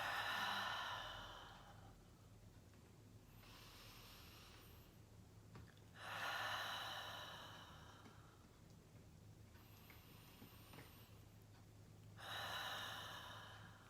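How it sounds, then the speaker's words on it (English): Slow deep breaths, drawn in through the nose and let out through the mouth, come as three or four long soft exhales spaced several seconds apart over a quiet background. "take 4 deep breaths in through your nose, breathing out through your mouth"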